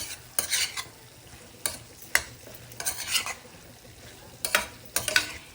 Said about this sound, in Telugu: ఇప్పుడు ఇది కలపాలి